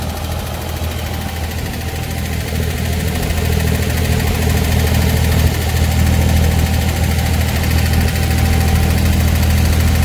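A boat's engine runs steadily during a pleasure ride in Dubai, a loud continuous low drone and rumble with vibration that barely changes throughout.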